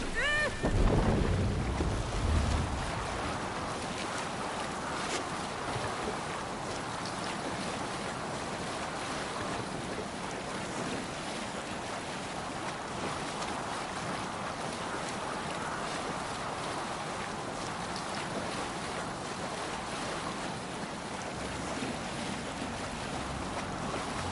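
A Viking longship under sail on open ocean waves in the Assassin's Creed Valhalla video game, with a brief louder splash or creak at the start, then steady wind and rushing water against the hull, no talk.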